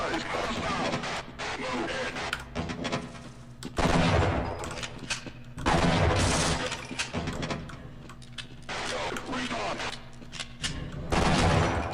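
Shotgun blasts in the sci-fi shooter Half-Life: Blue Shift, several loud booming shots spaced a few seconds apart amid a humming background and scattered clatter.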